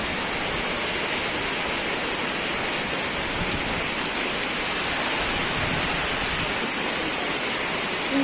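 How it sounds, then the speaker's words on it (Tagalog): Heavy hurricane rain pours down nonstop in Taytay, Rizal, Philippines, with strong wind. A dense, steady hiss of rain on surfaces stays loud and even throughout, with no voices. "lakas ng ulan."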